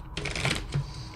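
Tarot cards are shuffled in one brief, close riffling burst, papery and crisp, with no talking.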